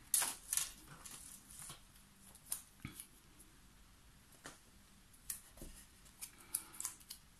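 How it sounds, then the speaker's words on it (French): Scissors snipping through a fairly thick rhodoid plastic sheet in a paper-crafting project: quiet, close, irregular crisp cuts repeating across the whole stretch with no talk. "je vais tout simplement le découper au ciseau"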